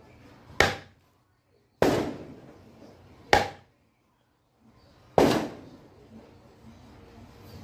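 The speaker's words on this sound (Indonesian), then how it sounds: "Sopo awan-awan mercon." Four sharp firecracker bangs go off one at a time at uneven intervals, each loud crack followed by a short fading rumble.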